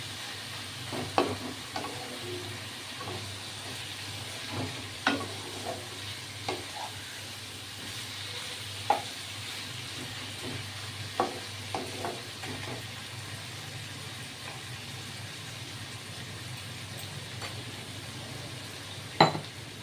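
Garlic chicken pieces fry in a pan with a steady low sizzle, punctuated by occasional scrapes and clinks of a spoon stirring the meat, with no voices.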